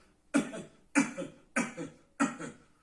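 Four deliberate fake coughs from one person in a breathing exercise that works the diaphragm, evenly spaced about every 0.6 seconds, close and fairly loud, with no talking.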